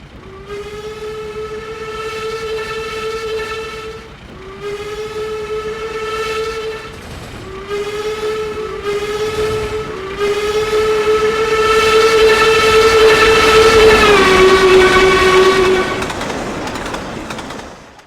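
Steam locomotive Duchess of Sutherland hauling a passenger train, its whistle sounding in several long sustained blasts, the last one loudest and held longest, over a steady rumble of the moving train.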